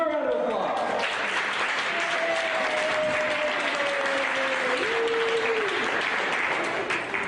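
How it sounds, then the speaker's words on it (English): Sustained round of applause from an audience at a Tomorrow Leaders event as an essay contest winner is announced, broad steady clapping with a voice or tone faintly audible beneath it. "Give her a round of applause"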